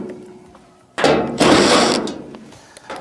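A 1/4-inch ratchet works on screws in a dryer's back panel, giving close mechanical clicking and a loud burst of rapid ratcheting that lasts about a second, followed by fainter clicks.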